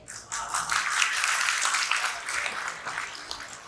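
Audience applause at a spiritual introductory camp session in Valukad, Gujarat, a dense steady wash of many hands clapping that swells quickly and holds for several seconds before easing slightly.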